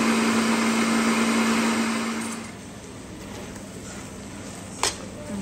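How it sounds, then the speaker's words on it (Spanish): A blender liquefying pepper and garlic runs loud and whirring for about two seconds, then winds down to a softer hum, with a single sharp clink near the end. "Pimienta, y es ajo, es lo que le voy a poner. Vamos a licuar."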